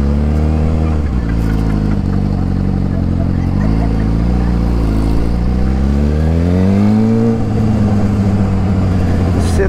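Suzuki SRAD 750 sport motorcycle with no mirrors, ridden slowly through a crowd at a strike blockade; a loud, steady engine drone that rises in pitch as the throttle opens near the end.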